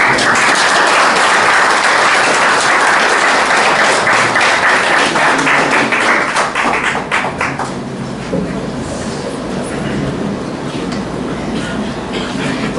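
Applause from an audience at a school presentation for a class of third-year secondary students, dense and loud clapping for about seven seconds before thinning into scattered claps and room noise.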